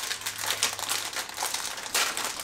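Double-layer plastic snack packaging for chocolate-covered almond pretzel sticks crinkles steadily as it is torn open, a close, continuous rustle with sharper crackling bursts, without any talking.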